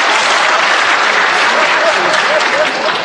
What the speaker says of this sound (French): cette constatation applaudie comme vous l'entendez